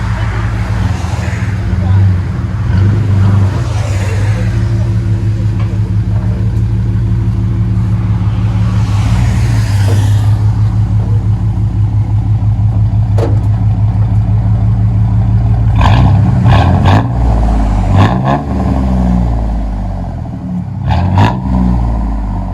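A GMC Sierra 4.3L V6 truck engine revs loudly and rumbles close by through a throaty Flowmaster exhaust, rising and falling in several bursts, with voices briefly heard over it.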